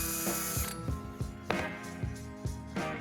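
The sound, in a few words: drilling holes with small drill bit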